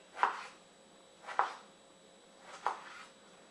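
A knife chops food into small pieces on a board, three crisp separate cuts spaced about a second apart, close and fairly quiet, with no talking.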